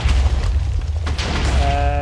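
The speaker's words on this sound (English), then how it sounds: "then you will hear the explosions behind you" Explosions going off in a Minecraft 1.17.1 tree farm, a loud, continuous booming roar that fills the whole clip, with a brief ringing tone rising near the end.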